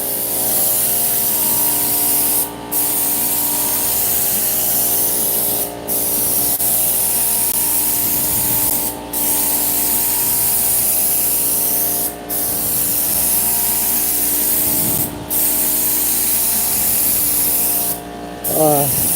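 A spray gun lays a light coat of paint on a BMW E36 M3 car body, a loud continuous hiss broken by brief pauses every few seconds, with a steady compressor-like hum beneath.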